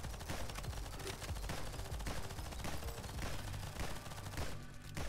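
Sustained rapid rifle fire from Nimrods Guncraft Survivor, with fast dense volleys of shots running almost without pause at moderate volume.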